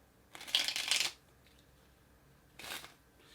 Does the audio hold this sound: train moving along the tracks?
no